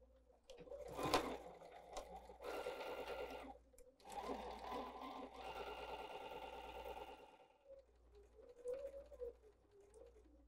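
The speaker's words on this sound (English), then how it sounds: "then I will be at the sewing machine to sew our quarter inch seam allowance" A sewing machine runs in several bursts of rapid mechanical stitching, separated by short pauses, fairly close and moderately loud.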